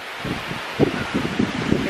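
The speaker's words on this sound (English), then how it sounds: "It's really windy, y'all." Strong wind gusting through leaves by Seneca Lake, a close, continuous rustle with uneven surges and soft buffeting on the microphone.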